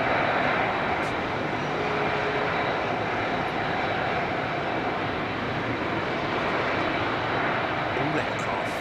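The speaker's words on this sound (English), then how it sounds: "I think this 380 is going to roll straight out" An Airbus A380 taxis at Heathrow Airport, its engines giving a loud, steady broadband roar that holds evenly throughout with no break, with a voice talking over it.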